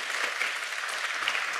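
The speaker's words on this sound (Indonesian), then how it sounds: "Kita kasih tepuk tangan saudaraku." Audience at a church healing service applauding: a short, even burst of dense clapping, fairly soft and continuous, with no clear talk over it.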